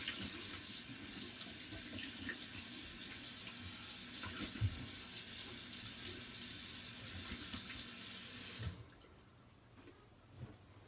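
Tap water runs steadily into a sink to rinse off an alum block after a straight razor shave, a constant splashing stream that cuts off near the end, leaving a quiet room with a faint clink.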